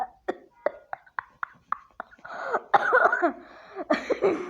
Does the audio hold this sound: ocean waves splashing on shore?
no